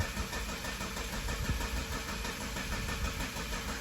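Mazda 6 2.2 Skyactiv diesel engine cranking over on the starter after an aftermarket crankshaft replacement, with no fuel delivered yet; a steady, loud, continuous churning drone running throughout, close by.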